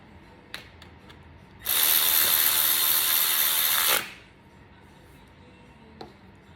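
A ratchet tightens a bolt on a bracket of an Audi A3 2.0T TFSI engine during water pump and manifold work, giving one loud, continuous buzzing run of about two seconds between quiet stretches.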